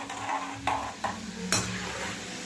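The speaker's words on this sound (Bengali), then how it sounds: "এই যে দেখো ঝুড়ি ভাজাগুলো ভাজছি এরকম করে" Jhuri bhaja snacks fry in hot oil with a soft steady sizzle, while a utensil stirs them in several sharp scraping strokes.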